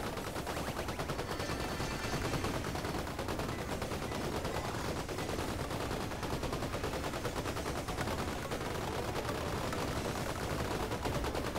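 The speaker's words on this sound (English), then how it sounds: "Fire, fire, fire, blast, fire them all." Sustained, dense gunfire from Space Marine 2 combat, a continuous loud barrage of rapid shots and blasts with no pauses across the whole stretch.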